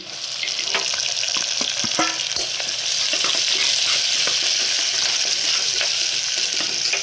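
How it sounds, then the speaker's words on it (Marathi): Onion and green chili fry in a pan for masoor khichdi, a loud, continuous sizzle of hot oil broken by frequent clicks and scrapes of stirring, close up with no talking. "आणि आता आपण टाकूया कांदा आणि मिरची"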